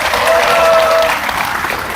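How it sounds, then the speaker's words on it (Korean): A lecture audience at a political party event breaks into loud, sustained applause with some cheering, a dense wash of clapping that holds steady for a couple of seconds and then eases slightly. "역시 문진석 위원님께 큰 박수 함성을 드릴까요?"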